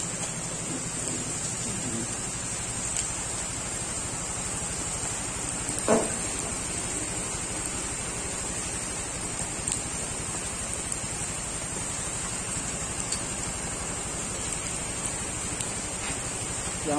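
Outdoor rain falls in a steady, even hiss, with a few faint knocks and a brief louder thump partway through, continuous and moderately loud with no voices.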